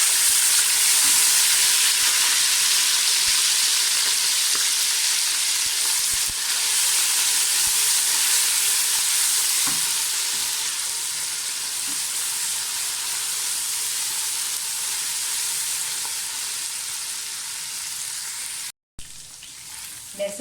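Onions frying in a pan with whole spices and garlic ginger paste, a loud, continuous sizzle and hiss with occasional stirring clicks, cut by a brief silence near the end.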